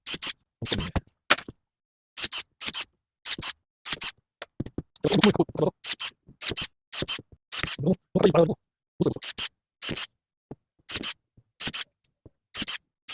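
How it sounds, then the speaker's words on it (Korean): Crisp snips of hand shears cutting scion wood for grafting repeatedly in quick, irregular bursts, close by, while someone talks intermittently between cuts. "가위로 잘라주면 되겠습니다."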